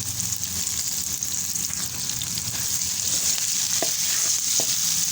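Potatoes and onions fry steadily in a pan, with a continuous close sizzle and a few faint stirring scrapes partway through.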